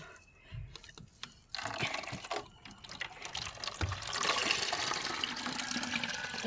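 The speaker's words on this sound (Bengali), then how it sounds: "এইভাবে জল ভর্তি হয়ে গেছে" Water pours into a drum on a hot, sunny day: after a few thumps and pauses, a steady rushing fill builds and grows denser and louder toward the end, close by with no speech.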